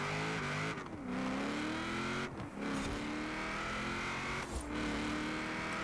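A race car engine in the Forza Horizon 4 video game screams at high revs, dropping sharply at three distinct gear changes before climbing again, loud and continuous with no talk.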